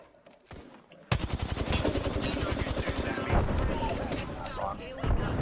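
Rapid automatic gunfire in the video game Apex Legends, loud and close, with bursts of shots rattling continuously over a few seconds as players call out over the shooting.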